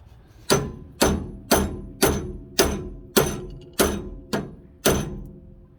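A sledgehammer pounds a stuck steering part on a 2008 Ford F350 Super Duty dually, nine heavy metallic blows landing at a steady half-second rhythm, close and loud, each ringing briefly.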